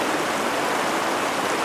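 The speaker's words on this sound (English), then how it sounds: "There's the creek," McGee Creek in the Sierra Nevada rushing along beside a trail: a loud, even wash of flowing water, close by and unbroken.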